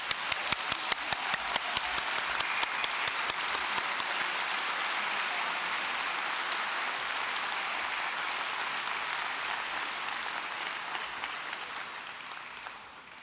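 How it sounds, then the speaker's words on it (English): A graduation audience at Dublin City University applauds, with a few sharp distinct claps at first merging into a steady, rain-like wash of many hands that slowly fades toward the end. "And we give them a big round of applause."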